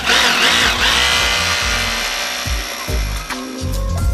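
A power drill boring down through a floor inside a reptile zoo, running loud and close with a steady whine that dips and surges in short bursts as the bit bites.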